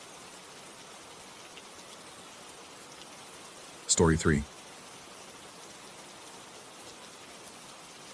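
Steady, even hiss of falling rain fills the whole stretch, with a brief spoken phrase cutting in partway through.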